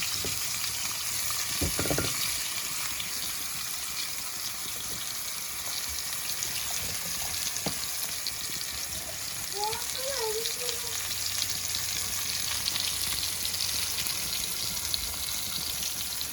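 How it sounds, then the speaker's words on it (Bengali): Fish frying hard in hot oil in a Bengali home kitchen, a steady dense sizzle running the whole time with a few soft clinks and scrapes, close and fairly loud, no talking. "তেলটা গরম হয়ে গেছে, এখন আমরা মাছটা দিয়ে দেবো, কড়া করে ভেজে নেবো"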